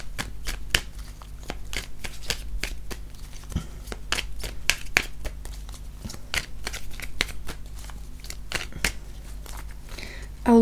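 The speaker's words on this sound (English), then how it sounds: "I will do a last shuffle" Tarot cards shuffled by hand, a rapid run of crisp riffling flicks up close over a low background hum.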